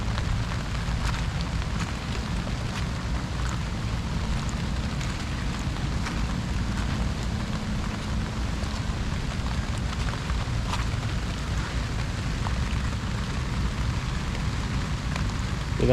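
Steady rain patters and hisses continuously on a surface, with no voices, an even wash of sound for the whole stretch.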